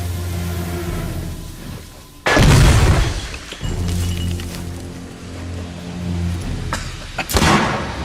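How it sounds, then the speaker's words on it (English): A grenade goes off in The Order: 1886, a loud, close blast with a deep rumbling tail that cuts across a low engine drone, followed later by a second sharp bang. "Heads down, grenade out!"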